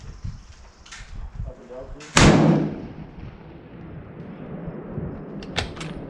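A sporter-weight 6.5 Grendel rifle fires one loud, close shot at a shooting range, a sharp crack that booms and decays over a couple of seconds, with faint voices and low background noise around it.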